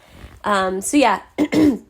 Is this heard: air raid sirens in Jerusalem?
no